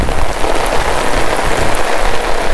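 Heavy rain pours down steadily on a market day during a downpour, a dense, loud, continuous hiss and patter close by with no talk.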